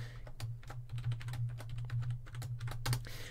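Quick, uneven clicks of a computer keyboard as the root password is typed during openSUSE KDE setup, close and fairly quiet over a steady low electrical hum, with no talking.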